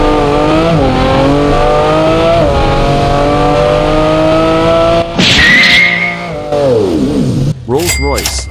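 Cars in BeamNG.drive, here a Lamborghini, loudly rev and accelerate with high engine whine and tire squeal, then crash with a burst of noise and squealing skids, while a voice talks over much of it.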